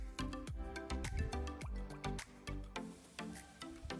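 Water trickles and drips through a natural stream cutting across a wooded property in Tennessee, giving a close, steady patter of wet plinks and gurgles.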